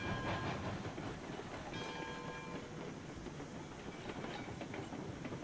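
Cook Mogul steam locomotive in the game RailRoads Online runs steadily, a dense continuous rumble of wheels and chuffing with faint clanks and a brief whistle-like tone, heard close and alone.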